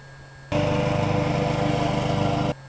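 Riding lawn mower engine running loud and steady for about two seconds with a rough, pulsing idle-like drone, starting and stopping abruptly.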